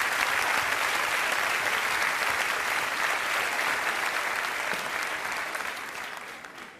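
A studio audience at a Turkish television talk show claps loudly and continuously for several seconds, the applause tapering off toward the end.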